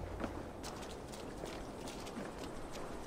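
A horse's hooves clip-clopping at a walk in Assassin's Creed Valhalla, a soft steady rhythm of hoofbeats, faint and low in level.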